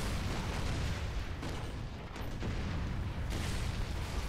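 Sustained, dense gunfire and explosion rumble from Gears of War 2 combat, a loud continuous barrage with heavy low booms and no clear gaps, no voices audible.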